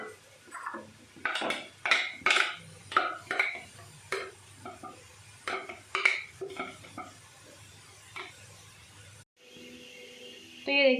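Vegetables being chopped and handled in a home kitchen for Mughlai paratha, with a series of sharp knife and utensil knocks against a board and dishes, clinks and scraping, close and fairly quiet, with a few short pauses.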